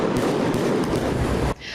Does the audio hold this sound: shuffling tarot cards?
no